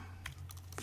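A few quick computer keyboard keystrokes clack close to a microphone over a low steady hum, brief and faint, with no talk.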